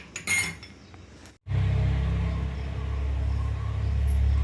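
A metal pan clinks down onto a stove for heating oil for North Karnataka girmit, then a steady low burner or hob hum continues close by.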